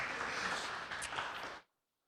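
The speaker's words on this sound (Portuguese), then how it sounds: "Uma salva de palmas, gente." An audience claps in a worship setting, a dense, even wash of applause lasting under two seconds before cutting off abruptly into silence.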